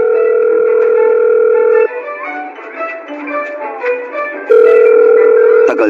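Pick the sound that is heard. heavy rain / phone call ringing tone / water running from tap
phone call ringing tone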